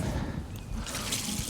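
Water trickles and patters softly onto a freshly covered pak choy seed drill in garden soil, a quiet continuous sprinkle lasting a moment.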